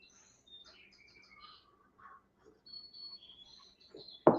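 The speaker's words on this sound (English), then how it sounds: "That's the bird clock." A bird clock striking eight o'clock at home plays a faint electronic bird song, with thin, high chirps and trills scattered over a few seconds and ending in a sudden louder knock.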